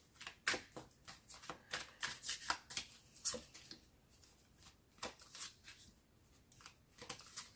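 Tarot cards riffled and shuffled by hand, then drawn from the deck, giving a run of close, crisp flutters and slaps in an uneven rhythm with no talking.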